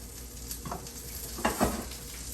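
A salmon fillet, flipped skin side down, sizzles in a hot pan as the skin crisps, a steady frying hiss with a couple of brief louder stirs or scrapes.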